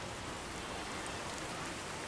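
Steady rain falling in Diamond City in Fallout 4, a dense, even hiss of drops on surfaces, continuous and fairly loud with no voices.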